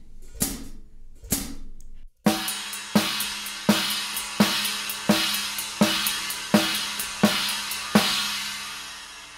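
Drum kit hand pattern phrased in three over a 4/4 pulse, with both hands accenting together and a right-hand double between them: a few sparse hits, then a steady run of sharp, loud strikes with cymbal wash, played alone.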